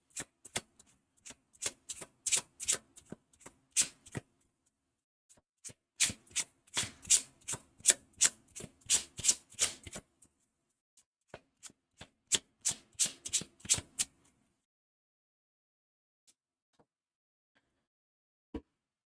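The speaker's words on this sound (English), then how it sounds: "And we shuffle these together." Too Many Bones board game cards are shuffled by hand in two long bursts of quick riffling and rubbing, close and crisp, followed by near silence with a few faint taps.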